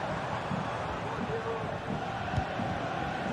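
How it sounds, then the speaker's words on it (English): Crowd cheering in a football video game, a steady dense roar of many voices that stays level throughout with no clear peaks, carrying on under game commentary. "The crowd encouraging him to take it on."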